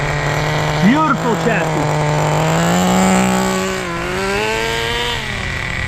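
An HPI Nitro RS4 radio-controlled car's small nitro engine runs nearby with a high, buzzing whine, blipping up briefly then settling into a steady, slightly wavering idle, with someone talking over it.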